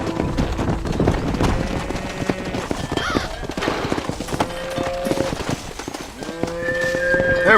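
A cattle herd in Red Dead Redemption lowing with repeated long moos over clip-clopping hooves and the occasional horse whinny, steady and fairly close.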